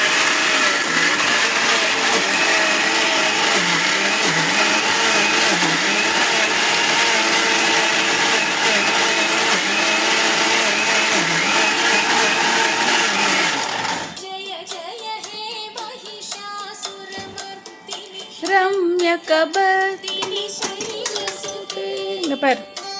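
A wet grinder churns rice into idli and dosa batter with a loud, steady whirring drone for about fourteen seconds, then cuts off, leaving voices and lighter clattering.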